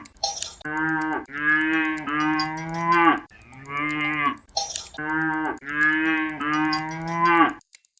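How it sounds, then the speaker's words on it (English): A cow mooing in two long drawn-out bellows, each made of several rising and falling tonal calls, loud and close with no other sound around them. "It's a cow."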